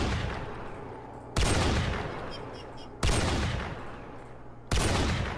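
Gunfire in the video game RimWorld during a sniper battle: three heavy, booming volleys of shots roughly every 1.6 seconds, each bursting loud and then decaying into a rumbling tail, with no talking.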